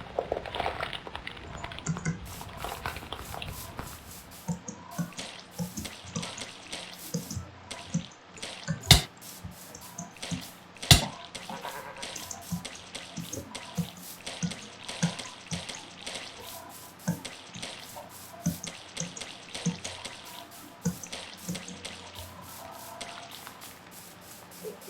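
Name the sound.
massive waterfall in the video game Blightfall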